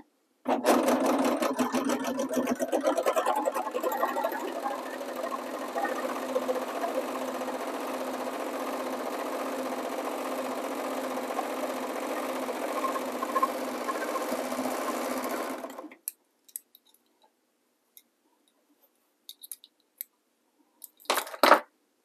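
A serger trims a fabric edge while sewing a flatlock stitch, running as one steady, loud mechanical drone for about fifteen seconds before stopping, followed by a few faint clicks and handling noises.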